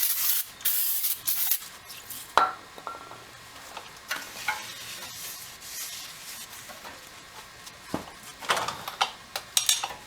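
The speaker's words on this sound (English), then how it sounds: "I'm just going to give a quick spray on here." Aerosol brake cleaner sprayed onto a new brake rotor to strip its anti-rust coating, several close, sharp hissing bursts of varying length with faint metallic clinks between them.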